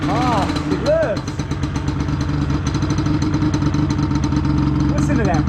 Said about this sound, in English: Listen to that mighty Banshee rumble.